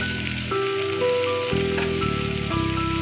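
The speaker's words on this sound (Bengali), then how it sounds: "ডাটা আলুটা একটু ভালো করে ভেজে নেব।" Drumstick stems and potatoes fry in a pan for a Bengali rohu fish curry, with a continuous close sizzle and crackle and faint steady tones in the background.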